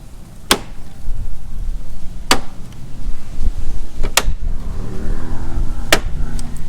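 Four sharp, distinct clicks ring out a couple of seconds apart over a constant background hum, as a plastic emblem snaps into place on a Ram 1500 truck.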